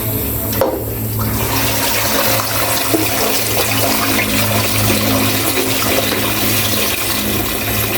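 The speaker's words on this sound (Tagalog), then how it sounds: "kuha po tayo dito ng tubig sa puset." Water runs steadily from a faucet, loud and close, like a tap filling a basin, with no voices.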